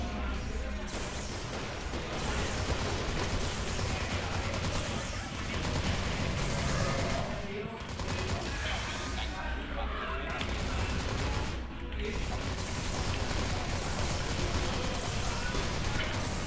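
Dual Scorpion VZ-61 submachine guns fired in the shooter game CrossFire, loud rapid bursts of automatic fire with short pauses between volleys, mixed with game effects and a voice talking over it.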